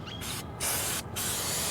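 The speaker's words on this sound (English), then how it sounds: "you spray this chain cleaner" Chain cleaner hisses from an aerosol can onto a motorcycle chain in three close, loud bursts separated by short gaps, the last spray lasting longest.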